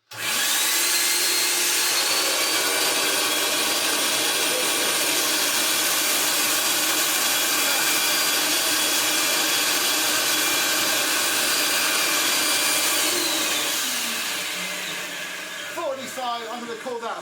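A 1982 Hoover Powervac Wet&Dry S4266 vacuum cleaner runs with a loud, steady whine and airflow hiss for about fourteen seconds, then winds down as a few clicks and knocks follow near the end.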